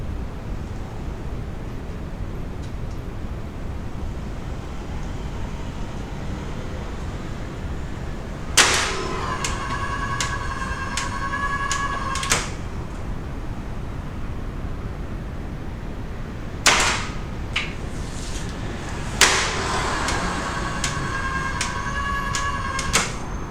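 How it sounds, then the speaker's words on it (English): A Hyundai HGN16 air circuit breaker is tripped by hand on a test bench. It snaps open with sharp metallic clacks and a brief ringing after each one, several separate trips spaced seconds apart over a low background hum. "At first, we trip the breaker manually."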